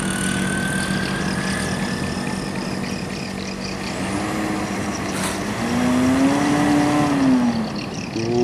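A Hino RM 280 bus engine running while the bus drives, a steady low drone with a rising whine near the end, on an intercity route in Sumatra.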